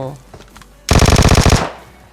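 A sustained burst of automatic gunfire in PUBG Mobile, a loud, close, rapid string of about a dozen shots in even rhythm, preceded by a brief murmur of voice.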